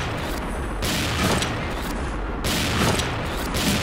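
A 'Bar' gun in the shooter XSHOT fires in rapid, loud bursts of booming shots, several volleys close together filling the clip with no speech.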